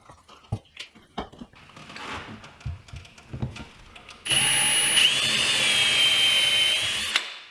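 A power drill bores holes in a garage entry door for mounting an automatic door closer, a steady close whine running for about three seconds after scattered handling taps and clunks.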